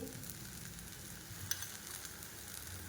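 A jowar dosa roasts on a hot pan, giving a faint, continuous crackling sizzle with one brief tap near the middle and no voices.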